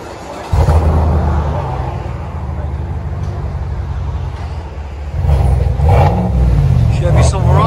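Chevy Silverado High Country pickup with a 5.3L V8 and Borla ATAK quad-tip exhaust revving nearby, a deep loud engine roar rising in bursts over a steady rumble, with people talking over it.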